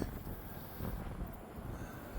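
Low, steady wind buffets the microphone in a muffled rumble at Galveston Island State Park, fairly faint and unbroken, with no voices.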